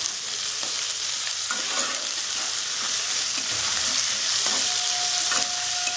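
Capsicum and onion for Bengali-style chilli paneer fry in a pan with a loud, steady close sizzle, broken by repeated scraping stirs of a spatula throughout.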